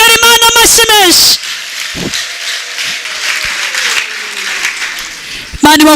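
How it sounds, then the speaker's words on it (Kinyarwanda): Church congregation clapping together for about four seconds in a dense, rain-like patter, framed by a voice speaking before and after the applause. "Abumvise iri jambo dukomere Imana amashyi menshi."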